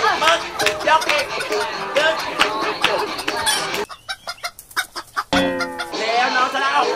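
Chickens clucking in a coop during a teen reality game show, bursts of hen clucks mixed with loud people talking and shouting nearby, a quieter gap of scattered clucks midway.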